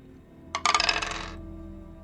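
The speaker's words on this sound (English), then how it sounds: "we'll just go ahead and roll 6 dice" Six dice rolled during a Blades in the Dark tabletop game, a sudden clattering burst of dice tumbling and rattling on a hard surface for under a second, close and alone, quickly settling.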